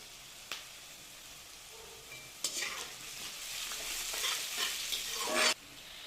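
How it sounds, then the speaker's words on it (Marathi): Onion sautéing in oil for a garlicky fenugreek vegetable dish, a faint sizzle with a few scrapes and stirring noises that grow into a louder crackling fry before stopping abruptly. "आता कांदा घालूयात कांदा पण गुलाबीसर होईपर्यंत परतायचा आहे"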